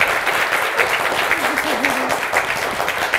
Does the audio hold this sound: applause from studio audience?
yes